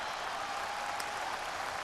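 Golf-course crowd applause and cheering in the Tiger Woods PGA Tour 14 Masters Historic Edition video game, a steady wash of clapping over about two seconds, fairly faint and continuous with no distinct voices.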